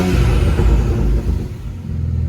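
A BMW 335i E90 engine runs just after starting, a close, low rumbling idle that swells briefly before settling.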